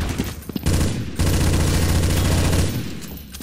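Rapid automatic gunfire in Counter-Strike: Source, a sustained burst of fast shots that comes after a few scattered earlier rounds, loud and close, with no talking.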